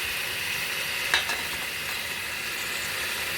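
Spices such as coriander powder, chilli powder and whole garam masala going into a frying mutton biryani base, a steady close sizzle with a brief stir or clink.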